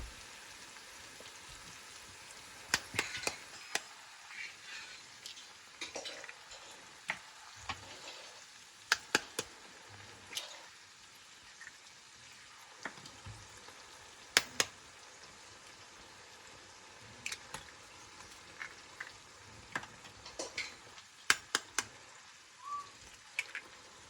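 Eggs frying in a pan for egg fried rice: a soft, steady crackle with scattered sharp pops and spits, fairly faint throughout.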